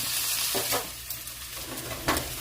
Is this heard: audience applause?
no